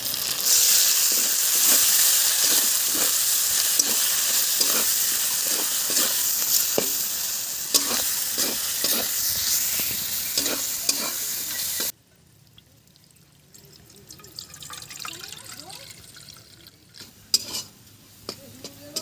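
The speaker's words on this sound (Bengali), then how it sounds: "এখানে মশলা ভাজা হয়ে গেছে" Spices with coconut paste and tomato frying in a pan while being stirred, a loud steady sizzle with repeated scraping stirs for about twelve seconds, then a much quieter stretch with faint scrapes and clinks.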